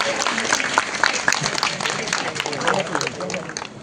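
A lecture audience claps in sustained, dense applause with crowd noise, and a voice is heard faintly beneath the clapping.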